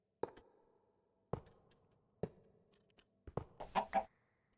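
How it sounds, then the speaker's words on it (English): A Minecraft chicken clucks in a few soft, separate sounds, with sharp knocks before them, and the scene is otherwise quiet. "Ah, a chicken?"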